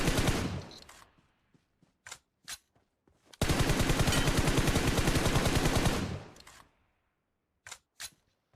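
Gunfire in the mobile shooter BGMI: scattered single shots, then a loud sustained automatic burst lasting a few seconds, followed by a couple more isolated shots.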